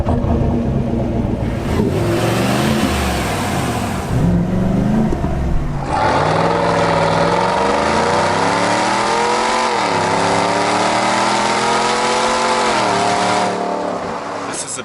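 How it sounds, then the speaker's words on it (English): A 2019 GMC Sierra 1500 AT4 pickup with a 6.2-liter V8 revs loudly and close, its pitch rising and falling through several sweeps, with a deep, continuous roar and no voices. "You just gotta listen to this engine."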